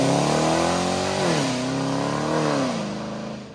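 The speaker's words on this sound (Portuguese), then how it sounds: "Acabaram de ouvir um V8 um escape direto." V8 car engine with a straight-pipe exhaust revving hard, a loud, raw, close growl that climbs, dips twice and swells again before easing off at the end, with no voices over it.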